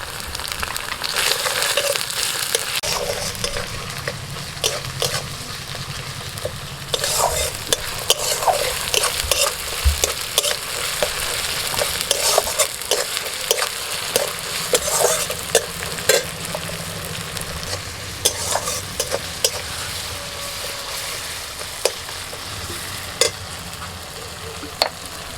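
Chopped tomato with salt frying and being stirred in a pan, a steady sizzle running throughout with repeated sharp scraping clicks of a spatula against the pan, close and fairly loud, no talking.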